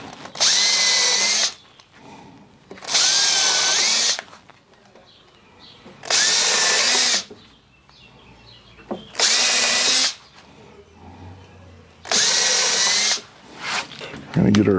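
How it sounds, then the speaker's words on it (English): A power drill drives into wood while building a raised garden bed planter, five loud bursts of about a second each separated by short pauses, close up with quiet handling noise between them. "Drill, drill, drill."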